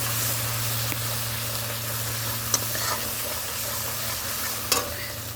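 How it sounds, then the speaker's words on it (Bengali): A spice paste sizzles as it is sautéed in a pan after eggs were fried, with a steady close crackle and a few sharp scrapes of stirring, and no talk. "এই দেখো মশলাটা একটু কষিয়ে নিচ্ছি"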